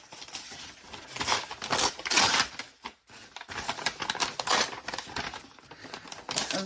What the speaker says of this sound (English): this is the sound of tearing paper